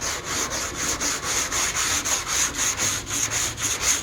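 A sanding block rubs back and forth across the hood of a 1970 Chevelle in quick, even strokes, each pass a loud, close scratchy swipe repeating in steady rhythm with no talking.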